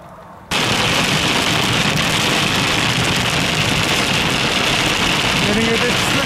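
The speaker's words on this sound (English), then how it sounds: "Here comes the rain." Steady heavy rain in the Southern Highlands, New South Wales, Australia, hisses in suddenly after a quiet moment and keeps pouring as dense, even noise.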